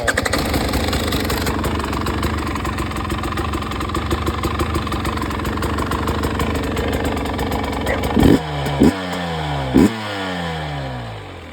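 A KTM, Husqvarna or GasGas TPI two-stroke dirt bike engine idles steadily up close with a smooth, even burble, then three quick throttle blips rise and fall near the end.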